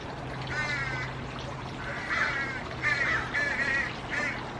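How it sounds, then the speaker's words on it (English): Several birds calling in short harsh bursts over steady background noise, moderately close, repeating every second or so. "The birds are going crazy."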